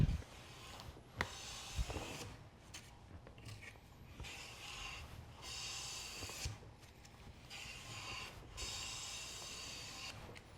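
Taylor Tools Bedrock hand plane pushed along a wooden board, cutting a shaving in several short, quiet rasping strokes separated by pauses, close by and without speech.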